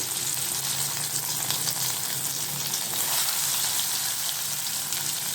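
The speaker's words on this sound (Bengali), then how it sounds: "এবার এই তেলের মধ্যে আমি সমস্ত আলুগুলো খুব সাবধানে আস্তে আস্তে ছাড়তে হবে যাতে তেল না ছিটকে আসে" Potatoes slid into hot oil for Kashmiri aloo dum fry with a steady, dense sizzle that holds evenly throughout, crackling close up with no talking.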